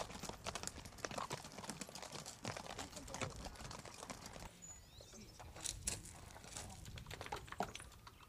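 Horse hooves clip-clop in a steady, close rhythm on a mountain trail in the Sierra de Guara, with faint outdoor ambience behind the sharp, repeated strikes.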